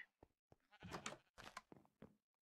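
Sheep in Minecraft bleat in several short, close bursts, the loudest cluster coming mid-way, each call rising and breaking off in quick succession.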